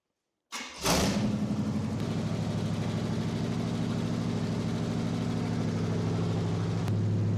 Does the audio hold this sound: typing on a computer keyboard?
no